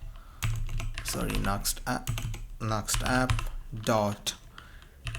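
Rapid clacking of a computer keyboard as code is typed, irregular bursts of keystrokes up close with a person talking over them.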